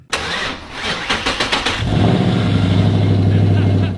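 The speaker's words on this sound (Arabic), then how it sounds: "وصوت المحرك ال V8 حقيقي خطير." A Ford Mustang with a V8 and manual gearbox cranks with a quick series of starter pulses, then catches and settles into a loud, deep, steady idle rumble close by.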